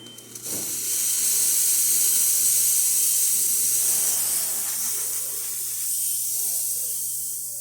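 Steam wand of a La Pavoni Professional espresso machine, just serviced and tuned up, lets out a loud, steady hiss that holds for several seconds after a brief sputtering start, with no one talking.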